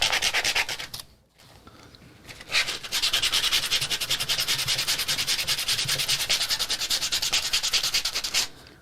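Sanding a coaster by hand produces a steady, rapid back-and-forth rasping scrub, close and fairly loud, with a brief pause near the start before the strokes resume and run continuously to the end.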